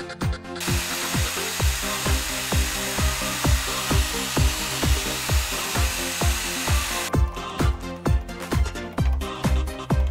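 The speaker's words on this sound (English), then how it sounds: "mark and drill the pilot holes and screw the push block to the drawer glides" A power drill bores pilot holes in wood up close, its steady whirring broken by regular rhythmic knocks, with a louder harsher burst at the start and again near the end.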